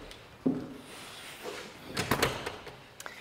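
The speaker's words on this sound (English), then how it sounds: "let's head inside through your 14-foot expansive front glass door" A tall 14-foot glass front door on a stone and stucco luxury home swings open, giving a thump, then a rattle and a few clicks of the latch and hardware, close and moderately loud.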